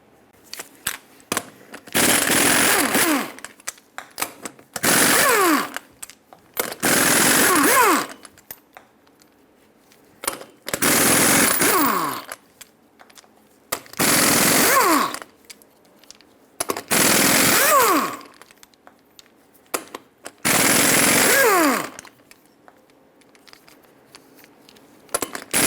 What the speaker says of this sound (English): Now use a 22mm socket to remove all 8 lug nuts and then pull the wheel off.